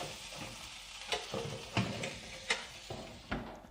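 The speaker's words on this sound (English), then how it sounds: "it's a good idea to stir the potatoes so that they don't stick on the baking tray" Roasting potatoes are stirred on a baking tray, with a few scraping, clattering strokes at an uneven pace over a soft, steady background hiss.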